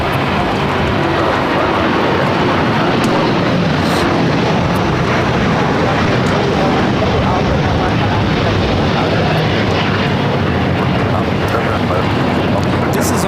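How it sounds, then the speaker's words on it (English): An All Nippon Airways Boeing 787-9 Dreamliner taking off for Tokyo Narita at LAX, its jet engines a loud, sustained broadband roar that fills the whole span, with speech mixed in. "This is All Nippon Airways Flight 5 taking off to Tokyo Narita on the 787-9 Dreamliner"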